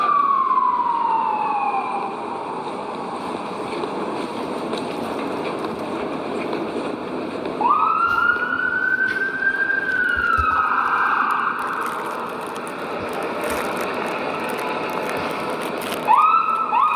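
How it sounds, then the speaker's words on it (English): An emergency siren wails in long rising and falling sweeps over steady road and engine rumble, growing louder and fading as it passes nearby. "Sounds like a fire truck making its way, or an ambulance."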